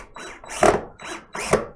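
A screw or drill squeals and grinds in two close, repeated bursts, each rising in effort, as wood screws are driven into 2x4 boards to hang a heavy printer mover in a basement.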